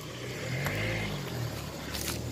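A vehicle passes by outdoors with a steady low rumble that swells and fades over about two seconds, heard fairly close with no talking.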